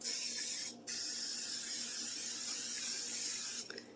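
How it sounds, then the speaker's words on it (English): Butter cooking spray hisses steadily from the can for nearly four seconds with one brief break, a close, continuous spray in a kitchen. "you can take your butter spray"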